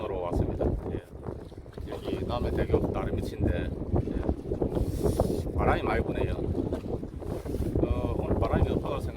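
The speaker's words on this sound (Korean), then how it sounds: "의외로 예, 바람이 많이 불고 있습니다." Strong gusty crosswind buffets the microphone at a seaside fishing spot near Namhae Bridge in South Korea, a continuous loud roar with someone talking over it throughout.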